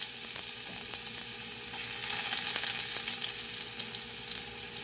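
Garlic fries in hot oil for a stir-fried potato and bell pepper dish, giving a steady, fairly loud sizzle with scattered sharp crackles and pops throughout, and no voices.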